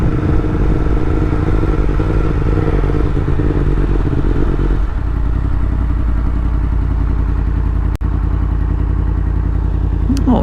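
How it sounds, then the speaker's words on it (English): A motorcycle putters along slowly in first gear on a rough road, its engine note loud and close, easing off midway, with a sharp clack or bump near the end. "I can't even leave first gear because the gearing on this bike is so high."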